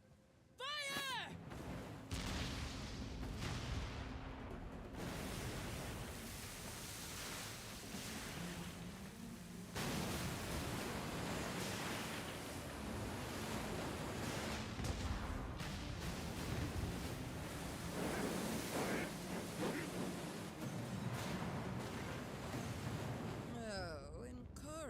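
Cannon fire booms repeatedly in a video game naval battle, heavy blasts and rumbling explosions layered under dramatic spoken dialogue and swelling background music.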